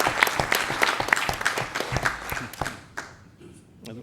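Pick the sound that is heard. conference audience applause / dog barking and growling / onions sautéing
conference audience applause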